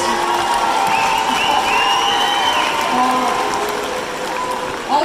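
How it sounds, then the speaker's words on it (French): Applause from an all-female audience at a live stream concert show, a steady crowd clapping with some cheering that holds evenly throughout, with voices mixed in. "il y a que des femmes qui applaudissent là"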